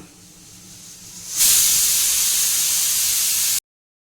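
A pressure cooker cooking bottle gourd lets out a loud, steady hiss of escaping steam that starts abruptly and holds for about two seconds before cutting off, with quieter background hiss before it.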